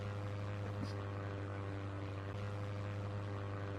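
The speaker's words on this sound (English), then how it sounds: "No, this is definitely a plane." A jet or airplane passing overhead on a day near Leeds, heard as a faint, steady droning hum with low tonal bands, distant and continuous with no talk over it.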